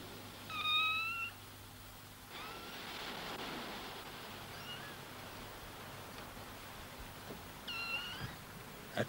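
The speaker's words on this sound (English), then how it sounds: "There was a mewing sound." Kitten mewing, shut in the cabin of a boat, with two thin rising cries, one early and one near the end, heard faintly over a soft wash of water and background hiss.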